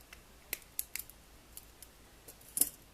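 Wire cutters snip the end of wire wrapped into loops for jump rings: several faint, sharp clicks spread across a few seconds, with a slightly louder snip near the end.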